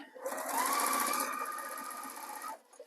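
A sewing machine fitted with a free-motion quilting presser foot, feed dogs lowered, stitches a flower in a continuous fast, close whirring run of about two seconds, its pitch rising slightly at the start and cutting off near the end.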